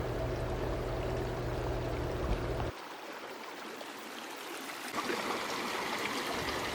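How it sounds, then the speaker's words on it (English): Creek water flows steadily over rocks along a rocky mountain trail near Bishop's Chocolate Lakes, a continuous close rushing and trickling that briefly shifts in tone midway, with no talking. "This is the creek."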